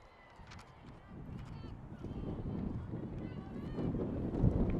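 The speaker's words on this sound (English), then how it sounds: "Big wind gust here." Wind gust buffeting an outdoor microphone at a girls' high school softball game, a low rumbling roar that builds steadily and peaks near the end, with faint talk underneath.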